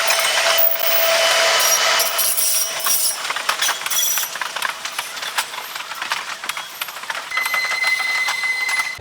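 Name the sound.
Nagpur railway station ambience with trains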